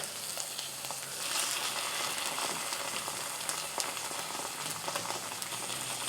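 Black bean tofu fries in a pan, a dense close sizzle and crackle that holds steady for several seconds without any talking.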